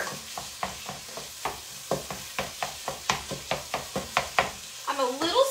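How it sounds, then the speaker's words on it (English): Hamburger meat cooks in butter in a pan, heard as a soft sizzle beneath a regular series of spatula taps and scrapes against the pan, with a brief voice near the end. "We have our hamburger cooking, hence the cheeseburger. We have it cooking with some butter."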